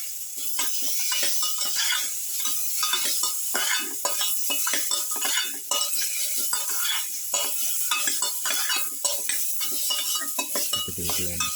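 A spoon stirs potato and pumpkin with salt in a pan over sizzling heat, giving continuous close scraping and clinking with a steady frying hiss underneath, and no voices.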